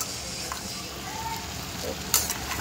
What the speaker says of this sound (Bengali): মা এখন একটুখানি তেলের উপর পাঁচফোড়ন দিয়ে এটাকে এখন ভাজছে